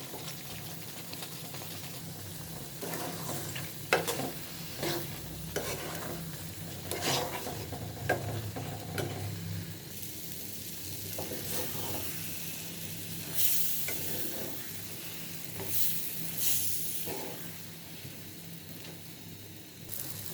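Garlic and chopped ingredients sizzle in a pan while being stirred, with scraping strokes and bursts of frying hiss over a steady crackle; no one speaks.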